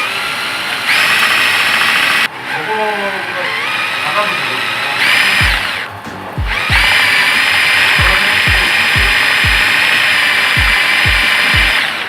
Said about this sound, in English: Our tool meat grinder.